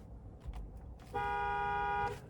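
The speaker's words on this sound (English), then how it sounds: "Love the horn sound." Horn of a 2025 Toyota Camry SE sounds in one steady, loud honk lasting about a second, heard from inside the car after a few quiet interior noises.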